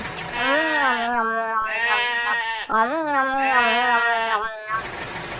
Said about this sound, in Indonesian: Ondel-ondel, itu kambingnya tuh